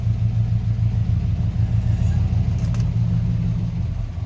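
A 1970 Chevrolet K10 pickup's engine runs at a steady low idle, a close rumbling drone with a brief faint click midway.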